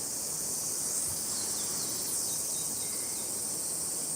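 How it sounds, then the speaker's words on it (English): Cicadas droning in the Japanese countryside near Shuzenji, a steady high shrill buzz filling the air at moderate loudness, alone, with no talk. "Cicadas are chirping, birds are squawking."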